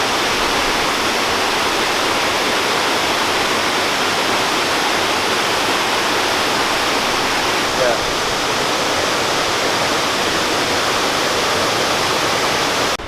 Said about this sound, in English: Well, that's a cool little waterfall.